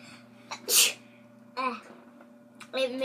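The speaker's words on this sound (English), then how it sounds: "It made me sneeze" A single sharp sneeze bursts out near the mic during a sour-food challenge, set between short bits of nearby talk and a faint steady background hum.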